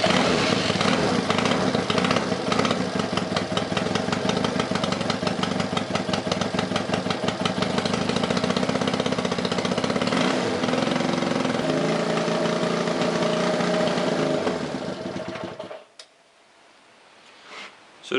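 A 1965 Honda CB160 motorcycle engine runs on its carburetors without the tank fitted, a steady close, loud idle with a rapid rhythmic putter that goes on for about fifteen seconds before cutting off into near silence.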